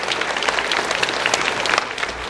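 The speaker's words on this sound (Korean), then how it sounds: "축복의 박수 한번 해주시기 바랍니다" Congregation applause in a church blessing a couple about to marry, a steady dense wash of many hands clapping throughout, fairly loud and close, with no speech over it.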